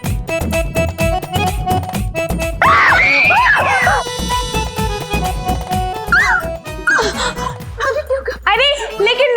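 Loud, repeated screaming from a woman in a Hindi sitcom household scene, rising and falling in anguished bursts over dense background music, with voices talking between the cries.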